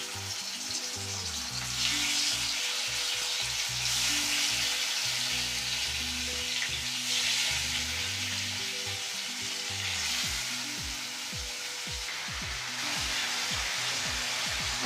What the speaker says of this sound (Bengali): এবার টিক্কার মতো করে ভেজে নিব।